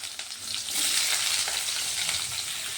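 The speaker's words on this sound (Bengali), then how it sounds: "এখন আমি কিছু আলু কপি ভেজে নেব।" Potato and cauliflower frying in hot oil, a dense, loud, steady sizzle that swells after the first moment and holds evenly, with occasional stirring touches and no speech.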